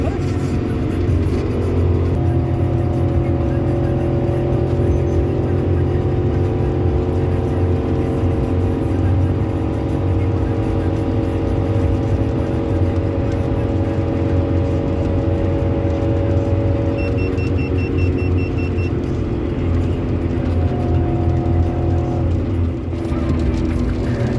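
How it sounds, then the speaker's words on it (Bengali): Car travelling along Durgapur Expressway in heavy rain, a steady loud engine drone and road rumble heard from inside the cabin with a constant wash of noise and faint tonal whine, continuous throughout. "আমরা গাড়ি বেশি জোর চালাচ্ছি না, কারণ খুব বৃষ্টি হচ্ছে।"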